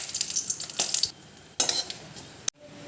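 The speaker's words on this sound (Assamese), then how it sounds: "শুকান জলকীয়া আৰু তেজপাত এটা দিছোঁ।" Dry red chillies and a bay leaf hit hot oil in a wok already holding whole cumin seeds, giving a bright, close sizzling crackle with metallic clatter and a brief burst before it cuts off abruptly.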